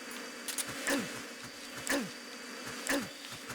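A bee swarm buzzes in the video game Metal Gear Solid 3, with three regular swooping passes about a second apart over a steady low drone. The buzzing is fairly quiet, with no talking.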